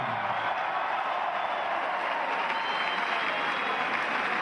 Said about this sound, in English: And the crowd absolutely loving that at Scotstoun. Warm applause.